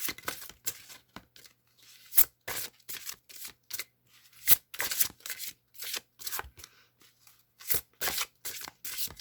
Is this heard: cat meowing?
no